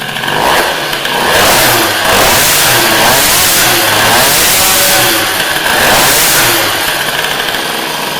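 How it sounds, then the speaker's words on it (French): A small 103 SPX-R moped engine revs loudly up and down in repeated surges with the clutch not engaged, close and buzzing, with no talking. "Vous voyez, vous entendez les tours, le régime."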